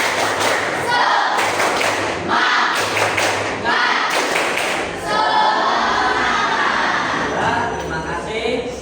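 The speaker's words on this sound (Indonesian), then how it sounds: "kita akan melakukan ice breaking. Tepuk semangat." Students perform a rhythmic spirit clap as a classroom ice breaker, sharp patterned claps and thumps in quick bursts with short pauses, close and loud, with voices chanting along between the beats.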